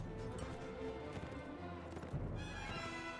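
A horse in the Mount and Blade Warband video game, with faint hoof clip-clops and a whinny rising toward the end, quiet under other game sounds.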